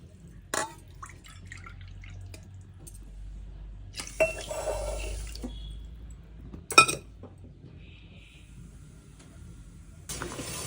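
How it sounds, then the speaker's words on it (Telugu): Water is poured into a pot of sugar to make syrup for gulab jamun, a short splashing pour in a quiet kitchen. Scattered clinks and taps of metal utensils come before and after it. "2 గిన్నెలు వాటర్ పోసుకొని"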